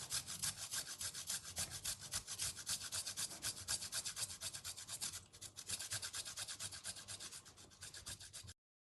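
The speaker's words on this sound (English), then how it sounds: "Using this, we have grated this ginger." Fresh ginger is rubbed back and forth on a ginger grater in quick, steady scraping strokes for about eight seconds. It is close and fairly quiet, with a brief lighter stretch midway before the grating stops.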